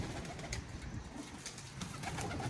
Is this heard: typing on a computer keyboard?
no